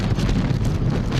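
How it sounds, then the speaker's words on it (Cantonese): Strong typhoon wind buffets the microphone at Hung Hom pier in Hong Kong during Super Typhoon Saola in 2023, a continuous loud low roar with gusty rumble and no pauses. "風勢亦都增強"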